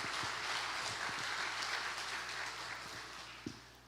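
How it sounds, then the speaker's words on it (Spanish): A church audience applauds in a dense, steady wash of clapping that slowly fades toward the end, with a low hum underneath and a few louder individual claps near the close. "Uma salva de palmas para eles."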